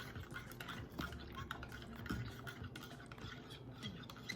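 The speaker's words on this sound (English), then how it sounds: "I usually have to stir it a while to get all the powder to dissolve in the coffee" A spoon stirs keto powder into a cup of coffee, making faint, steady clinks and swishing without a break.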